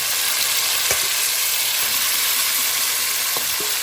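Oxtail sizzles and fries steadily in a pot for Jamaican fall-off-the-bone oxtail, a loud continuous hiss with a few faint clinks from stirring.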